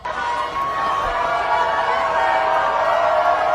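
A theater audience at Les Miserables reacts with loud, sustained crowd noise, a dense wall of cheering, clapping and shouting held steady throughout.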